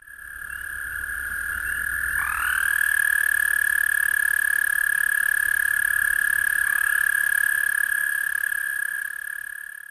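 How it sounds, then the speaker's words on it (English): An Eastern American toad gives a long, steady high-pitched trill that holds for several seconds, loud and close, with a second voice joining partway through. "the voice is definitely a distinct trill kind of call"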